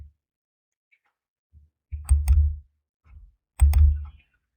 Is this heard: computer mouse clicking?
yes